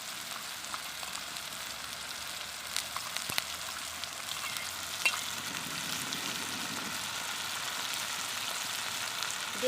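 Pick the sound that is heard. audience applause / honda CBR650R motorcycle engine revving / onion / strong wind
onion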